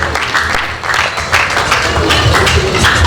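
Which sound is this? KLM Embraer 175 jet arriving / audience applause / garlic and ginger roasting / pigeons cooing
audience applause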